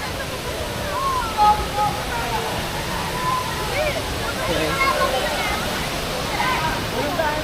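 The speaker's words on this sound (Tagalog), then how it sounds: "Kasi ito yung falls nila." A waterfall at Filomena Springs Nature Resort in Cavite, Philippines, gives a steady broadband rush of falling water, fairly close and constant, with faint voices in the background.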